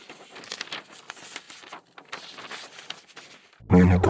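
A paper letter is handled with soft, scattered rustles and crinkles, then a voice begins speaking right at the end.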